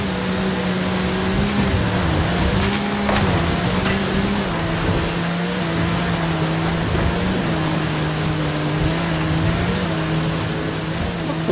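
A car engine in an off-road racing video game drones continuously as the car speeds past woods and over a stream crossing, its pitch rising and dipping with throttle changes throughout.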